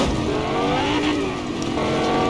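Car driving in Fortnite with popped tires: a loud, continuous engine roar with steady revving close up, no voices over it.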